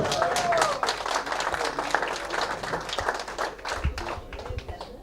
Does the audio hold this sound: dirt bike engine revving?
no